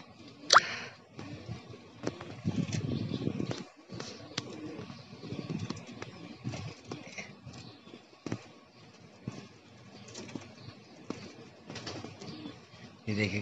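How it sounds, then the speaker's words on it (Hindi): Pigeons cooing and fluttering close by in hot sun, soft repeated coos with scattered wing flaps and clicks, a voice speaking at moments. "ये देखिए कितनी तेजी से आ रहा है ये कबूतर"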